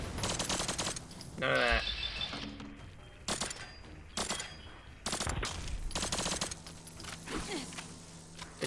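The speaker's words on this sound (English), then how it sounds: "the suppressor sounds pretty cool and futuristic" Suppressed light machine gun from a Fallout 4 mod, video game, firing in short repeated bursts with a futuristic, crackling tone, fairly loud and close, mixed with other game effects and a brief voice.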